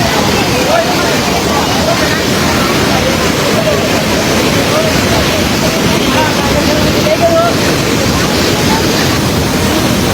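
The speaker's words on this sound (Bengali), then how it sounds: "পানির যে স্রোত প্রচুর স্রোত" Loud, churning rush of a strong floodwater current, a constant roaring wash close by with no pauses.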